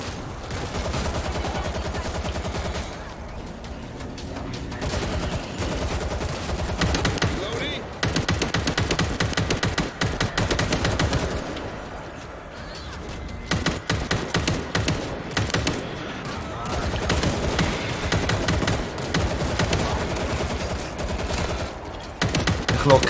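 Rapid bursts of gunfire in the game World War Z repeat in long volleys, loud and dense, with brief pauses between them and occasional speech underneath.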